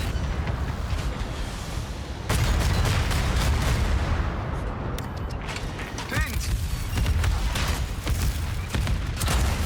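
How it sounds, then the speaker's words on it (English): Grenade blasts and battle noise in the online game World of Tanks HEAT, with repeated booms, mechanical clatter and scattered sharp impacts forming a dense, loud, continuous din. "I'm gonna throw the grenades down so I can try and get my tempo up"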